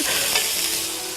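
Soup stirred in a pot beside cooking meatballs, a brief close burst of sloshing and scraping with a sizzle underneath.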